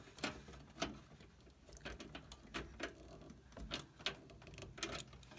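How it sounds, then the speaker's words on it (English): A screwdriver tightens the single screw holding a PC SSD in place, faint, close ratcheting clicks and scrapes coming in irregular bursts, with no talk. "we're gonna tighten it down the rest of the way"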